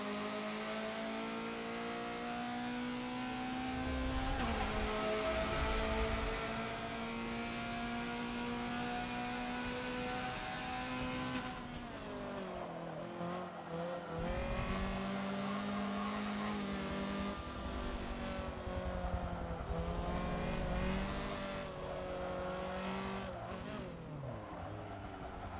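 Honda CRX racing at Long Beach in a Forza racing game: a steady, loud engine drone rising and falling through gear changes and braking for corners, continuous for the whole stretch, with brief hints of tyre noise.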